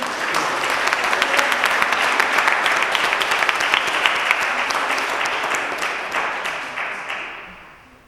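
Sustained applause from a congregation at a Catholic mass at Saint Luc, honoring the Trinité senior guides who led the service. It is steady and dense throughout, then tapers and fades out at the end.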